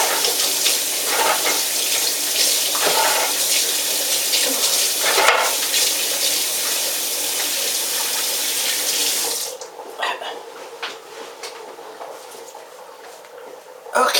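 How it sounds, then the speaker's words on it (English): A kitchen sink tap runs in a steady, close hiss while hands are washed under it. The stream shuts off about two-thirds through, leaving faint drips and small handling noises. "Wash my hands."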